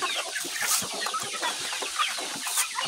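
Chickens on a poultry farm cluck steadily and busily, a dense overlapping chorus of hungry birds filling the whole stretch with no talking.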